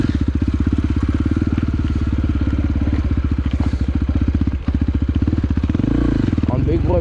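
An enduro dirt bike ridden over a log on an enduro cross course, its engine a loud steady rapid thrum with a brief dip and a rev surge near the end, heard close.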